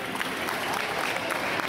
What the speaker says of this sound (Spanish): Están aplaudiendo bien, ¿sí o no?